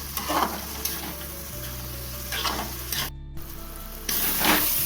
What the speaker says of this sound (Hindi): तो चलिए मसाला से ऑयल रिलीज होने तक इसे भून लेंगे।